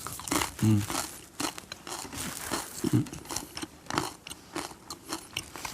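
A crispy slice of bread made from day-old bread, with a wheat-bran crust, is bitten and chewed close up, giving crunchy crackling bites in bursts, with a voice speaking over parts of it.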